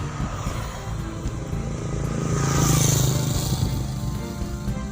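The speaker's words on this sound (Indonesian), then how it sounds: "kita lihat nih, ada mobil juga ada motor nih" Car and motorcycle driving over a bumpy, freshly laid hot-mix asphalt village road in Kedungwungu, a steady engine rumble swelling as a vehicle passes close near the middle, then easing off.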